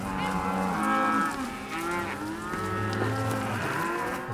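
A herd of cattle being driven moos continuously, several overlapping bellows of different pitches layering close and far in a steady chorus.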